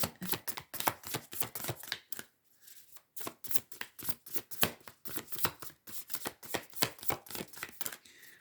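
Rapid riffling and flicking of cards in repeated bursts, close and crisp, with brief pauses between rounds and no talking.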